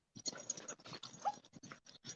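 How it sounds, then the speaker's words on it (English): A dog whimpers and whines in short, uneven bursts during a live morning show, close by and fairly faint, mixed with some breathy yips. "This dog is crazy."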